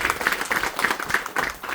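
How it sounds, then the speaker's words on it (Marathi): Crowd applause at a community gathering, a steady close wash of many hands clapping with no pauses through the short stretch. "पुन्हा एकदा जोरदार टाळ्या"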